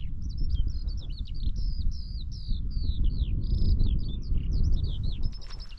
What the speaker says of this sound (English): but the skylark up there.